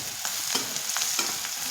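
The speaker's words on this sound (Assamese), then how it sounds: "ভালকৈ লৰাই ল'ম।" Spices stirred in a frying pan for sour fish curry, with a spatula scraping in a soft repeated rhythm over a steady sizzle of oil, close and fairly quiet.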